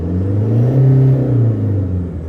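A Toyota Fortuner with a Stage 3 engine build revving in neutral, a deep close-up engine note swelling up and holding before easing back down in one smooth rev.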